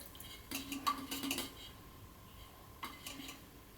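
Curd being stirred into rava idli batter in a bowl, heard as a few quiet bursts of spoon scraping and clinking against the bowl with pauses in between.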